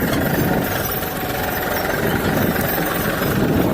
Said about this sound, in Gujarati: ખાલી ટ્રેક્ટરનો અવાજ સાંભળો